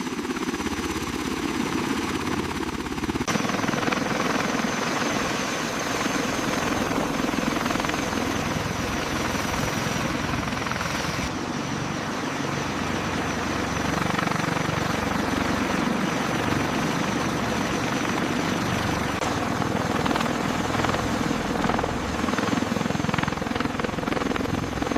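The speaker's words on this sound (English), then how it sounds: "Initiating rotor engagement sequence. Check blades clear. Blades are clear. Engaging." The largest US helicopter runs with its rotors engaged, a loud, continuous heavy engine and rotor roar with a steady turbine whine, holding even throughout without talking.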